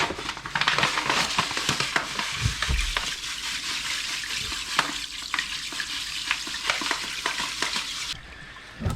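Lukewarm water runs and swirls into a tub to dissolve Epsom salt for a sick chicken's bath, a continuous rushing splash with intermittent clunks and knocks, close by.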